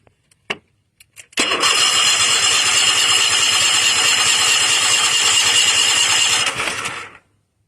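A Toro TimeCutter riding mower engine cranks with a few short bursts, then catches and roars loudly at close range for about five seconds before cutting off.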